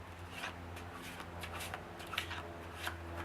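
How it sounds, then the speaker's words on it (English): A deck of playing cards is worked through an overhand shuffle, with soft rapid riffling slaps in repeated bursts, close and quiet, and no speech. "Now that is the basis on how to do the overhand shuffle."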